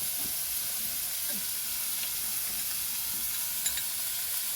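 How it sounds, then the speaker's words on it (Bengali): Chopped tomato, onion, turmeric and salt sautéed in a pan for a sour small-fish and taro curry, giving a soft, steady sizzling hiss with faint stirring scrapes, close and unbroken. "টমেটো পেঁয়াজ ভালো করে কষিয়ে নেবো"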